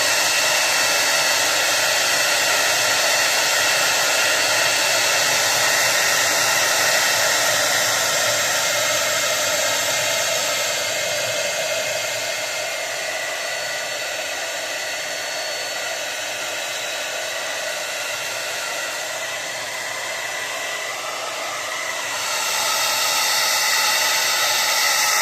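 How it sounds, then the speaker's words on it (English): A hair dryer blows continuously at close range while drying a mustache, a loud, steady whooshing roar whose tone dips slightly mid-way as the airflow shifts, then returns to full strength. "Now I'm just going to go ahead and blow dry it"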